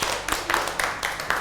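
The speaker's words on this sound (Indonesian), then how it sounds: "tepuk tangan untuk kalian semua" A small group of students in a morning class claps hands, producing a short run of sharp, uneven claps in scattered bursts, with faint voices mixed in.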